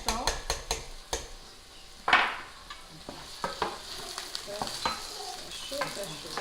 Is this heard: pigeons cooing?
no